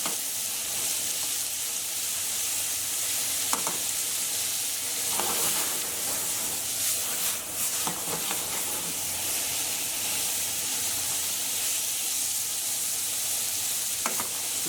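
Meat for Turkish iskender kebab frying in a pan over high heat, a steady loud sizzle and hiss running throughout with occasional sharp crackles and the scrape of stirring.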